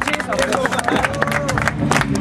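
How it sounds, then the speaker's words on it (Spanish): Audience applause and crowd noise at a freestyle rap battle, dense clapping with cheering and babble throughout, loud and sustained. "¡Aplauso!"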